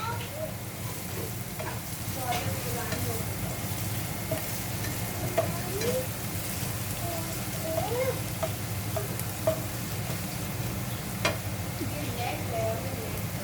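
Onions frying in a pan until brown, a continuous moderate sizzle with occasional clicks and scrapes of stirring, while a person talks over it.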